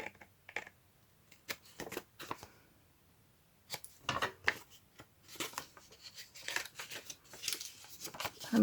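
Scissors snip through paper for a craft journal, making quiet, close, crisp cuts in irregular bursts separated by pauses, with a denser run of snips in the second half and no talking.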